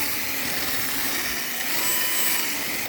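A power drill whines steadily while enlarging a hole in a wooden floor, a continuous loud, bright buzzing that holds nearly even for the whole stretch with no pauses or voices.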